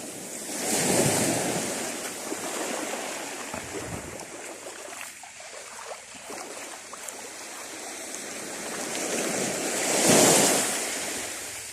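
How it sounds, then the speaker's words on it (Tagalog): Sea waves wash and break near the shore of a calm, flat sea, heard close, with louder surges at the start and end. Gusty wind buffets the microphone throughout. "Ang ganda ng dagat oh."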